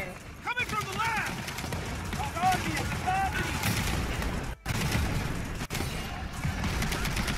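Rapid bursts of gunfire in Gears of War 4 combat, close and continuous, mixed with game effects and someone talking over the shooting.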